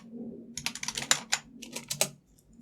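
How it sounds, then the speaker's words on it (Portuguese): A mechanical gaming keyboard clatters under quick typing, a dozen or so sharp, clicky keystrokes in an irregular burst over a low steady background hum, close up. "é um teclado gamer também que faz esse barulho, é um teclado mecânico"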